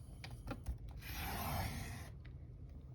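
A paper cutter trims paper for a junk journal, with a soft scraping slide of the blade lasting about a second amid quiet handling rustles.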